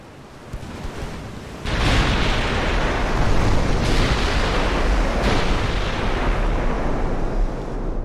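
A warship gun salvo in the naval game Ultimate Admiral: Dreadnoughts opens with a heavy broadband boom, then becomes a sustained loud roar of rumbling blasts. A few further thumps punch through the roar over several seconds.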